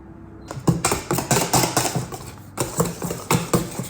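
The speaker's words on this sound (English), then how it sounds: "now I've finished whipping my cream" Double cream with icing sugar and vanilla being whipped for Chantilly cream, a fast regular clatter of a whisk against the bowl, close and loud, with a brief pause midway.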